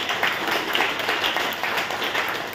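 A political gathering's audience claps steadily and moderately loud for a couple of seconds, a dense even patter of many hands.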